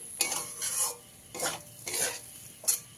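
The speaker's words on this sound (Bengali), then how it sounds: "এইভাবে জলটা দিয়ে অনবরত নাড়াচাড়া করে রাখতে হবে।" Semolina (suji) being stirred with a little water in a pan, heard as quiet repeated scraping strokes of a spoon against the pan in uneven bursts, with a faint sizzle underneath.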